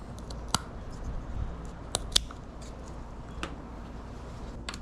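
Scissors snipping the fins off a caught lionfish, a few sharp isolated cuts at irregular intervals over a low steady background hum.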